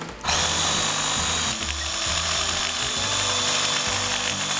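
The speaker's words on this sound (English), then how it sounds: "We don't have a vibration table, so Sawzall." A Sawzall reciprocating saw is held against a poured epoxy and coffee bean countertop to vibrate it, giving a loud, continuous buzzing rattle with a fast steady pulse, close and alone.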